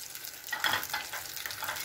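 Eggplant pieces fry in hot cooking oil, a soft, even sizzle with faint crackles and light stirring, quiet and close.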